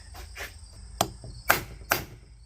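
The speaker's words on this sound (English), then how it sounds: "we should pound that in with a hammer" Three sharp hammer blows pounding a part into a Spicer 6800 axle during teardown, evenly spaced close metallic knocks over a faint insect-like background buzz.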